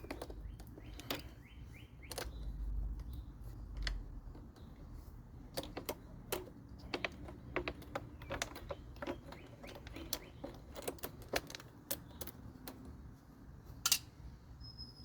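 A wrench works loose bolts on a 1980s lawn mower, giving faint, irregular metallic ticks and clicks close by in a quiet setting, with a few sharper taps and no talking.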